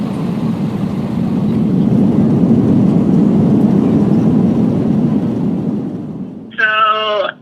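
An airplane takes off, heard as a loud, steady, low roaring rumble that holds for several seconds and then eases off, followed by a brief voice at the end.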